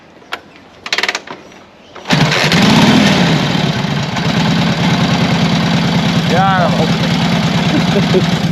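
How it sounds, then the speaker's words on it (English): A classic Harley-Davidson motorcycle starts on its first kick after a couple of faint clanks, then settles into a loud, steady, lumpy idle close by. "First kick. That's a goddamn Harley Davidson."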